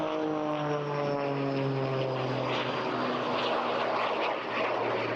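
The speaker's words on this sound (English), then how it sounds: "There's still the strangest sound associated with this class of aircraft." A propeller-driven aerobatic aircraft performs at the Eastbourne International Airshow, its engine a loud, steady droning buzz whose pitch slowly sinks as it passes, heard alone with no talk.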